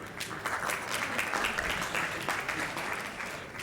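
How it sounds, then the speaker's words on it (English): An audience gives a round of applause at a talk on bridging knowing and doing, a steady wash of many hands clapping at moderate, slightly distant level for a few seconds. "That's a round of applause."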